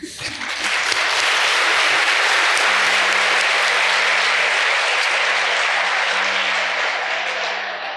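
A large audience at an education talk event bursts into loud, sustained applause that holds steady for several seconds before easing slightly at the end.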